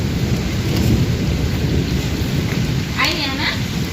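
Heavy rain pours down with thunder, a loud, dense, continuous roar of downpour with low rumbling; a voice is briefly heard near the end.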